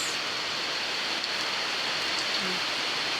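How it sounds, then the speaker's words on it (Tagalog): Steady hiss of rain falling, continuous and even throughout, with no voices. "Sa wakas guys, umuulan na."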